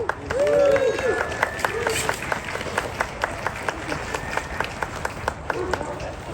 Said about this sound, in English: Can you please give a round of applause for Sky?